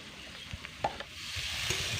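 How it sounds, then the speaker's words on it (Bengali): Chopped potato, carrot and pointed gourd fry quietly in a pan with browned onion, giving a soft steady sizzle broken by a few light scrapes and stirring knocks. "এবার সমস্তটাই একসঙ্গে একটু হালকা করে ভেজে নেব।"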